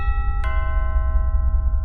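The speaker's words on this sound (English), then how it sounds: "The doorbell rang again" A doorbell of a house at night, one clear electronic chime that starts suddenly and rings on in steady sustained tones over a low background rumble.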